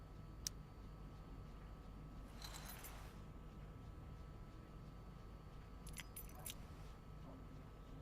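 Keys jangle in Life is Strange: Before the Storm, a short bright burst near the start and two longer rattling shakes later, each heard over a steady low ambient hum.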